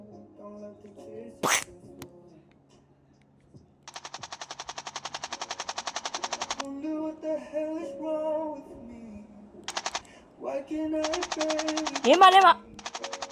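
Rapid animated gunfire bursts out in a countryballs zombie apocalypse cartoon. Several machine-gun-like rattles sound in close, loud bursts, and voices shout between and over them.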